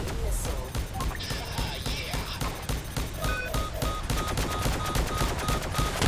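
Weapon fire in a spaceship video game, rapid repeated shots in a dense volley with electronic effects, loud and continuous throughout.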